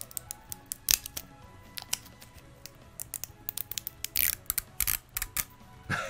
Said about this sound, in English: Listen to the sound of peeling plastic.